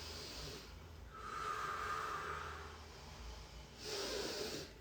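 Slow, deep breaths during a yoga hold, two long airy exhales a few seconds apart, close and fairly quiet with a steady soft hiss between them.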